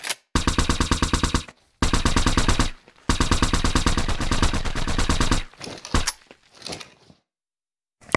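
A custom ADK weapon in a video game fires silenced shots in fast, evenly spaced bursts. Several long volleys are separated by short pauses before a few scattered single shots, then silence.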